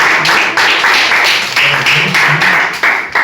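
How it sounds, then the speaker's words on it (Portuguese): A church congregation at a Pentecostal evangelical service claps together in sustained applause, dense and loud, with the rhythm surging in waves and no voices. "Vamos dar uma salva de palmas para o Senhor Jesus."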